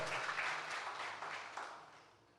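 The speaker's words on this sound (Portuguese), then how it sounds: "Você pode dar uma salva de palmas ao Senhor?" A church congregation claps together during a Portuguese-language worship service, a soft, dense wash of applause that gradually fades over a couple of seconds with no voices.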